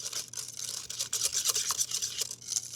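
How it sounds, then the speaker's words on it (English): A whisk works through pumpkin cheesecake batter made with softened cream cheese and pumpkin purée, giving a brisk, rhythmic scraping swish up close with no talking. "I can switch to a whisk."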